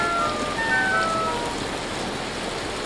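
Hail falls in Vintage Story as a dense, continuous hiss of pattering impacts, fairly loud and steady throughout, with a few faint tonal whistles near the start.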